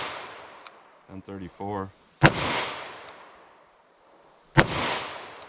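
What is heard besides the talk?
gunshots from a revolver firing .38 Special +P Hornady handloads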